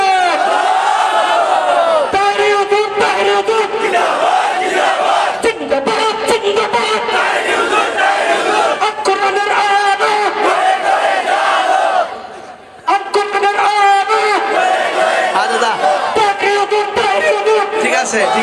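A large crowd shouts slogans in unison at a religious gathering. The chanting is loud, continuous and rhythmic, with many voices blending together, and it drops off only briefly once before surging back.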